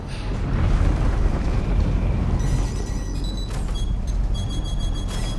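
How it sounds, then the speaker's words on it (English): Missiles in a space combat game make a loud, continuous rushing roar, with rapid beeping tones cutting in during the second half. "Why are they shooting so much missiles?"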